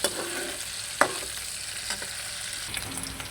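Shrimp frying in a little olive or soybean oil in a wok, a steady close sizzle with a few sharp clicks and scrapes of stirring.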